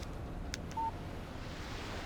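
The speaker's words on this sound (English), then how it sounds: "Text message from Barry." A single short electronic beep from a phone text message notification in the Alan Wake video game, a brief clean tone over a low, steady ambient background.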